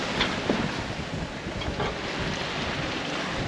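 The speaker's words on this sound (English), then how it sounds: "Well, the wind's come up, we're all romping along." Wind rushing over a sailing catamaran under way at sea on the Great Barrier Reef, a steady broadband roar with buffeting gusts against the microphone and faint water wash, no talking.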